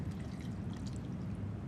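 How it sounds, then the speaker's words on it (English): Vegetable stock, about two cups, pours steadily into a simmering pot on the stove, a continuous low liquid rush without pauses and no talk over it. "It's time to pour our veggie stock in here."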